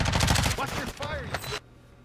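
Rapid gunfire in a Destiny Crucible match, a dense burst of automatic shots in the opening half second, then scattered game effects and chatter before sudden quiet.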